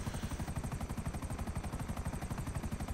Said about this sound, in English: Where is the other helicopter?